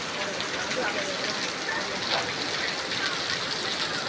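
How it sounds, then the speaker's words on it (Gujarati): Heavy monsoon rain pours down on a village farm in the evening, making a dense, steady hiss of falling water that continues unbroken from start to end. "ફૂલ વરસાદ પડે છે અમારે આજે"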